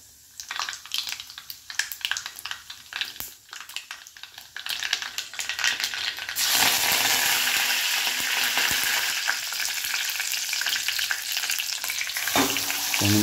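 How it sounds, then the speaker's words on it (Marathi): Cumin, mustard seeds and curry leaves crackle and sizzle in two spoons of hot oil in a kadhai on a gas stove, stirred at times, the frying turning to a loud, steady hiss midway that continues to the end. "गॅसवर कढई गरम करून त्यामध्ये 2 चमचे तेल टाकून त्यामध्ये जिरे, मोहरी आणि कढीपत्त्याची फोडणी देऊन घेतली आपण"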